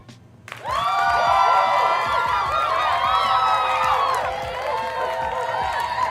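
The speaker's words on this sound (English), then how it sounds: "Let me make sure, man, the applause plays properly." Canned applause and cheering played from a stream deck during a live stream: a sudden burst of crowd clapping and whoops that holds steady for several seconds, then eases slightly.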